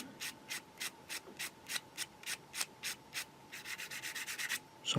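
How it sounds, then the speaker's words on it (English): Small plastic parts of a Takom 1/35 scale Chieftain Mk10 tank model being sanded by hand, a steady run of short, close rasping strokes that quicken toward the end, with no talking. "So I'm not going to do a massive amount of sanding here now."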